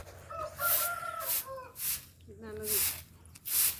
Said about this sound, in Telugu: అవి బాతులు, అడవి బాతులు.